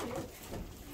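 Young pigeons coo softly nearby, a brief low murmuring burst with no voices.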